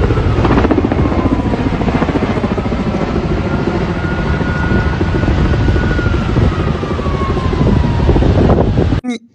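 A firefighting helicopter works over a forest fire in Turkey, its loud, steady rotor and engine roar filling the whole stretch with wind buffeting the microphone, then cutting off abruptly at the end.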